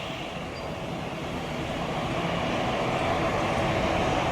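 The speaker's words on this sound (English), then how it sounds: "Taxiing towards the terminal, post runway," An Indigo airliner taxis toward the terminal at Chennai after landing, a steady, fairly loud broadband engine roar that swells slightly, heard from a distance with no talk.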